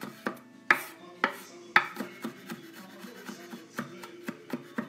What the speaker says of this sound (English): Now we chop this garlic really thin